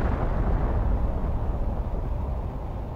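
A loud, dense rumbling roar fills the whole stretch, a sustained heavy blast that slowly fades, an asteroid impact explosion in the game Planet Crafter.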